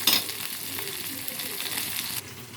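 Chopped onion sizzling in hot tempering oil for bottle gourd dal, a steady close crackling fry with a sharp burst at the start that cuts off abruptly near the end.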